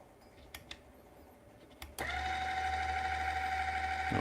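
A Turin SD40 single-dose coffee grinder starts up after a few soft clicks and grinds beans with a loud, steady whine for about two seconds. It then stops abruptly, and no one speaks.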